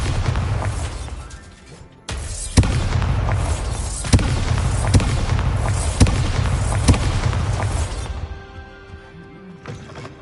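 Loud magical blasts from a Bombarda explosion spell in a wizard video game, several booming bursts with sharp cracks, each followed by a sustained rumbling roar, fading to quiet at the end.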